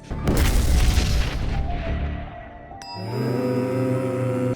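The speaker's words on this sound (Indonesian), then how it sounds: "Namun malah meledak di tempat." A rocket explodes on its launch pad in the anime Dr. Stone: a loud, rumbling blast with a dense burst of noise, fading slowly over a couple of seconds before steady hissing and tonal roaring take over.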